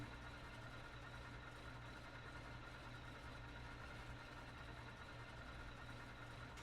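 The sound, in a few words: Ford Trimotor engine running after start, from video game Microsoft Flight Simulator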